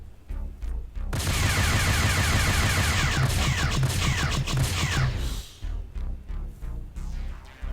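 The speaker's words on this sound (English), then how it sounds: "Nelson's rear turret is doing a number on this thing." A capital ship's rear turret fires in the space combat game Freespace 2, producing a loud, dense barrage of rapid impacts and blasts that lasts several seconds before giving way to rhythmic pulsing thuds.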